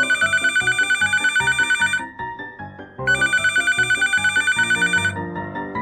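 A phone rings with a bright repeating electronic ringtone in two loud bursts separated by a short quieter gap, alone and without voices.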